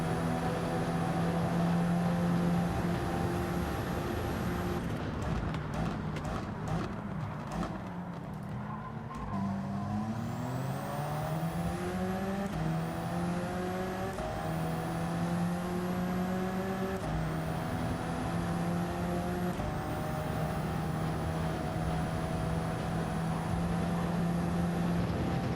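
Race car engines in Gran Turismo 7, running close behind a Peugeot in the slipstream, with a loud sustained engine whine that drops, then climbs through repeated upshifts, while other cars roar alongside.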